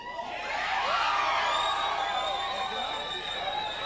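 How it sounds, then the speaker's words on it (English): Election night crowd at a civic election campaign gathering, loud cheering, whoops and shouting voices blending into a continuous, excited roar with some babble underneath. "you can hear the crowd"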